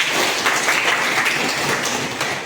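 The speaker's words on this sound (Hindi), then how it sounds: "ताली बजा दो।" Audience applause at a village gathering in a speech hall, a dense, steady wash of clapping that runs loud and continuous throughout, with no voices standing out.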